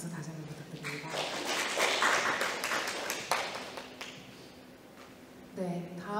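An audience at a Seoul forum on bulky and electronic waste applauds the chairman of the Seoul environmental federation, a swelling burst of clapping that fades out, with a voice speaking before and after it.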